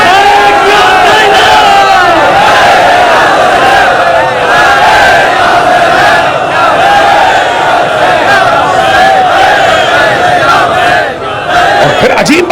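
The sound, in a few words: crowd chanting slogans at a religious gathering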